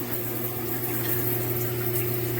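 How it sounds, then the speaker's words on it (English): Water sprays from a SparkPod filtered shower head, a steady hissing rush with a constant low hum under it, even and close, with no voices. "doing a video review on this SparkPod filtered shower head"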